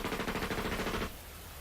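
Rapid automatic gunfire from The Fruit of Grisaia visual novel, a loud, dense volley of shots fired close together for about a second before cutting off abruptly.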